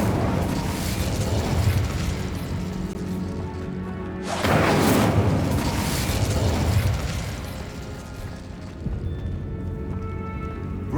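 Incendio fire spell cast in Hogwarts Legacy, a loud burst of flame with a boomy explosive onset near the middle, set among continuous game effects and background music, with a smaller pop near the end.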